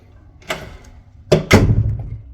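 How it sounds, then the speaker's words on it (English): A room door swings and bangs twice in quick succession, a dull thud followed by a louder knock, close and sharp against a quiet indoor background. "this door makes a lot of noise"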